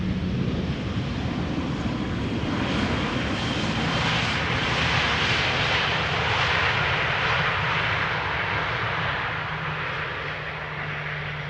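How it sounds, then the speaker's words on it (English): A Croatia Airlines Airbus A320 on flight 450 from Zagreb, about 19 years old, arrives at Amsterdam Schiphol, its engines producing a loud, steady, broad roar that lingers and slowly fades, heard alone without speech. "Croatia Airlines. Flight 450 arriving from Zagreb,"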